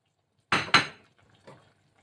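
Sotanghon noodles stirred in a cooking pot, two quick metallic clanks of a utensil against the pot, then a faint third scrape, close and alone.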